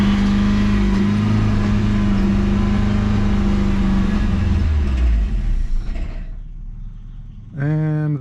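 A Nissan S13 with a KA24DE engine, fitted with a replacement MAF sensor and still running poorly, idles with a steady, close droning hum that fades out after about six seconds, followed by a brief voice.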